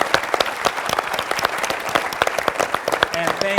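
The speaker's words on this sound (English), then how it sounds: "we need to give her a round of applause" A theater audience at a science talk event gives a steady round of applause, dense clapping filling the room from start to finish, with a voice briefly heard near the end.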